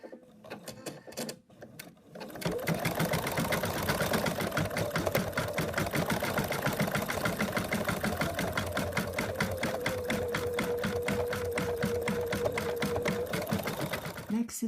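An embroidery machine stitches a small pink nose on a mouse design in a fast, loud, rhythmic mechanical chatter. The stitching begins after a few handling clicks and runs steadily to the end.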